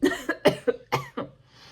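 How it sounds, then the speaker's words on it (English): A short burst of several dry coughs in quick succession, close and fairly loud, fading out at the end. "I was trying to get that out before I coughed"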